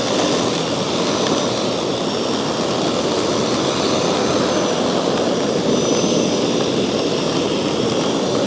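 A lawn dethatcher running across grass and tearing out thatch, making a loud, even mechanical roar mixed with rushing noise that holds steady throughout.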